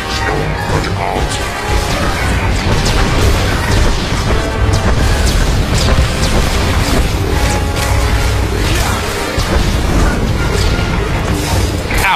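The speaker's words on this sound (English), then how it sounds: "he's been targeted for a heavy missile attack. This attack will slam not only him, but anyone standing nearby" Heavy missile strikes from an Annihilation droid slam down in a SWTOR raid, a dense, continuous barrage of loud booms and crashes layered over battle noise and music.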